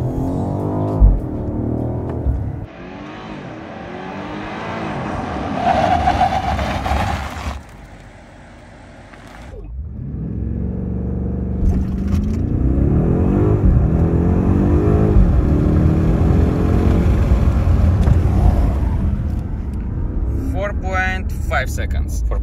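BMW 760i G70 with ZF 8-speed automatic accelerating hard, a loud engine and road roar building steadily after a brief lift, with someone talking over it throughout.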